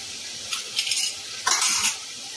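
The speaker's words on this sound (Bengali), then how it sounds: "মশলাটা ভালো করে কষাবো যতক্ষণ না তেল ছেড়ে দেয়।" Spice masala for a taro and potato curry is stir-fried in a pan, with two close bursts of scraping spatula strokes over a faint sizzle.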